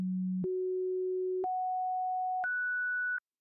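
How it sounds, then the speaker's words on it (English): Test tone from a wave file: a pure sine steps upward through four steady pitches, each held about a second, loud and clean with no other sound. "First we'll use a test wave."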